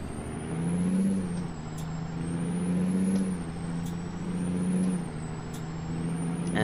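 A truck hauling a load of beams from Carson City to Winnemucca, Nevada, in American Truck Simulator: a steady, low diesel drone swells and eases in slow waves, with a thin high whine and a few faint clicks.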